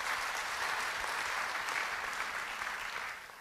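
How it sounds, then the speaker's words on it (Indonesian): A church congregation clapping in praise during a sermon, a full, even patter of many hands at moderate distance that carries steadily and tapers off near the end. "Yang mau beri tepuk tangan bagi Tuhan."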